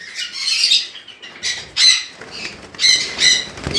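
Conure parrots squawk at a bird farm, loud harsh bursts repeating in close succession, several birds calling near and overlapping.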